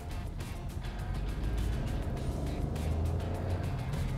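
Hyundai Venue turbo engine pulling hard with the throttle floored, a steady loud low drone that stays even and strong throughout with no breaks.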